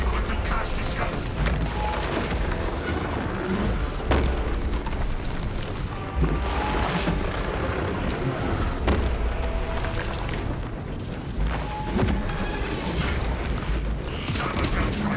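Rumbling explosions from a servo gun strike pound through a Space Marine 2 battle, with booms and mechanical clatter under a steady wash of wind-like noise.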